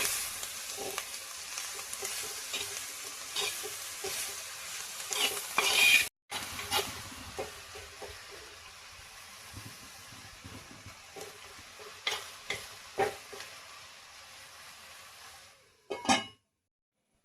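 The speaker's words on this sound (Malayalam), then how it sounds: "ഇത് ഇടയ്ക്കിടയ്ക്ക് ഇളക്കി കൊടുത്തുകൊണ്ടിരിക്കണം." Onions fry with a faint, steady sizzle in a pan for a leaf stir-fry, broken up by soft intermittent scrapes and clinks of stirring, with a brief near-silent gap partway through.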